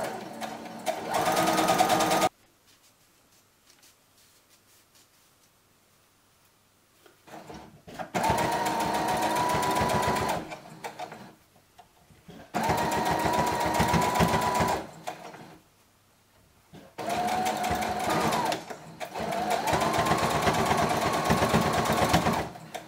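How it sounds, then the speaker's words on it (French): A domestic sewing machine stitches a dress, running in three or four long steady bursts of even motor whir separated by quiet pauses, close and loud with no talking. "je vous embarque dans quelques moments couture sur cette robe Jolie Lab"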